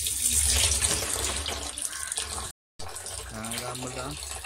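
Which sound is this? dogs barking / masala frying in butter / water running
water running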